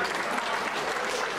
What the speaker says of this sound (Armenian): եկեք մենք ծափարենք